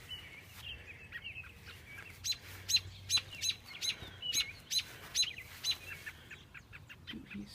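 A baby bird chirps in a quick series of sharp high peeps, close and fairly loud, with fainter bird calls around it outdoors.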